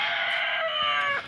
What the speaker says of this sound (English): Thank you, Mr. Rooster.